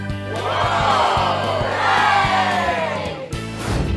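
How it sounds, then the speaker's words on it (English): Several voices cheer and whoop loudly together in rising, excited cries, with a few sharp claps toward the end. "the whole family clapped and cheered"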